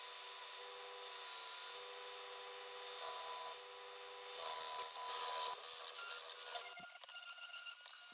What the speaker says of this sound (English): This is where the belt sander came in great.